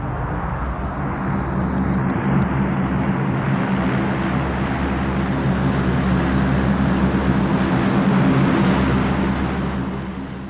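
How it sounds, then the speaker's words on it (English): A Hercules transport aircraft makes a tactical landing, braking hard with reverse thrust; a loud, close, sustained propeller roar and rumble holds steady for several seconds before easing off slightly at the end. "A tactical landing. The bulk of a Hercules brought to a halt in about 750 meters"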